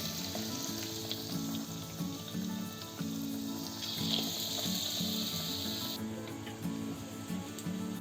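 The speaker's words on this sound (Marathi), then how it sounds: "तर आपण तळायला घेऊया." Egg manchurian balls deep frying in hot oil, a steady loud bubbling sizzle that runs the whole time, with a low rhythmic hum underneath and no talking.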